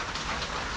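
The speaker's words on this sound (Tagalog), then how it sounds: "Grabe na naman yung bagyo na to." Heavy rain pouring down during a typhoon in the Philippines, a dense, even hiss of drops hitting surfaces, loud and unbroken, with no voices.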